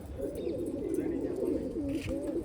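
Pigeons coo steadily and close by, a continuous low throaty burble from a loft of racing or flying birds, with no speech over it.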